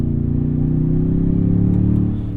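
A 2024 Toyota Tundra TRD Pro pickup accelerating at full throttle gives a loud, steady engine drone that climbs slowly in pitch. It is heard from inside the cab and continues without a break.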